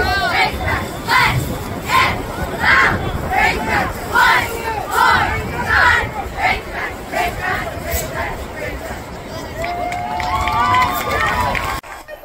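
Middle school cheerleaders shout a football cheer in loud rhythmic unison, repeated chanted bursts with crowd noise throughout, close and energetic before trailing off at the end.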